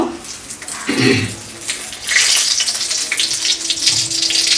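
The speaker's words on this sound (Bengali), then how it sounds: "এখন আমি এই তেলের মধ্যে দুটো তেজপাতা দিয়ে দেব" Two bay leaves dropped into hot mustard oil for pork kosha give a sudden burst of sizzling and crackling frying, loud and close, then a steady spitting hiss.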